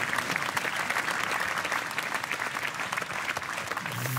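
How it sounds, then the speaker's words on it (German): An audience claps warmly for Karl Schörkhofer at a remembrance event, a dense sustained round of applause from a crowd that carries on evenly for several seconds. "Jetzt machen wir erstmal Applaus für Karl Schörkhofer."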